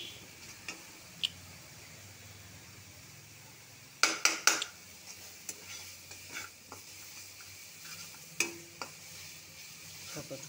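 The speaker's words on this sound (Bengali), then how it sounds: "এখন মশলাটাকে ভালো করে কষিয়ে জল দিয়ে দেব" A ginger, garlic and onion spice paste is sautéed in a pan for a Bengali pabda fish curry. A quiet low sizzle runs under a quick burst of metal spoon clinks against the pan, and a few scattered scrapes follow.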